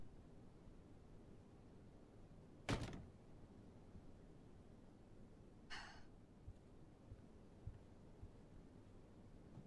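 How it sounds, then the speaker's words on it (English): A door closes in the video game Life is Strange 2 with a single soft thud, followed a few seconds later by a brief airy latch or slide sound, both faint over quiet room noise. "Okay, let's close the door."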